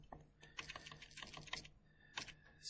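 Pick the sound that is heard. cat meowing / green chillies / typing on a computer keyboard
typing on a computer keyboard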